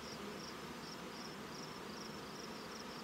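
Honey bees buzz in a low, constant drone as late-season honey is pulled from nucleus hives using an escape board, while soft insect chirps pulse faintly at a regular rhythm behind them.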